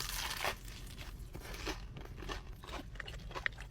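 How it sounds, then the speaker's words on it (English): Crunchy Jollibee fried chicken bitten close up, a run of crisp, crackling crunches spread through the bite with no talking over them. "Listen to this crunch."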